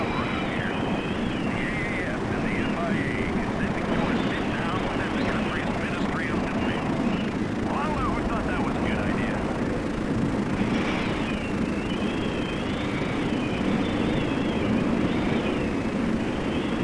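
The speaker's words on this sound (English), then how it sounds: "the helicopter that we are riding in might be a bit loud" A military helicopter in ARMA 3 drones loudly and continuously from inside the cabin, a steady rotor and turbine roar, while voices talk over it intermittently.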